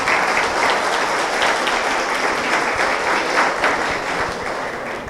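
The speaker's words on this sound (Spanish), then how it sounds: "Les damos la bienvenida con un fuerte aplauso a todos los que nos están viendo" Loud, steady applause from a church congregation fills the room, a continuous dense clapping that carries on without a break for several seconds.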